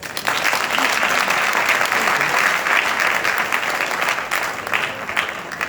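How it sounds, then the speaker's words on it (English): Audience at an International Women's Day celebration at a ministerial complex gives a round of applause, sustained dense clapping from many people throughout, fairly loud and even. "Shall we give him a round of applause?"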